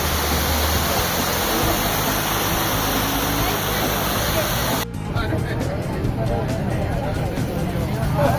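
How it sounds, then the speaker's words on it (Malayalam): Roadside waterfall in Munnar tumbling from above and passing under the road, a steady loud broadband rush of falling water that runs continuously, dipping briefly partway through before resuming. "റോഡിൻ്റെ വക്കത്തിനുള്ളൊരു മനോഹരമായൊരു വെള്ളച്ചാട്ടം"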